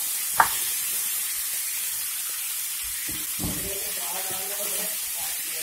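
Green peas dropped into hot oil with spices in a pan, giving a steady low sizzle with a sharp click near the start and a brief clatter later.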